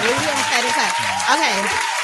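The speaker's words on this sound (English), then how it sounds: "Clap it up, clap it up, clap it up" Audience applause fills the room with a dense, steady clatter of clapping, while a voice speaks over it almost throughout.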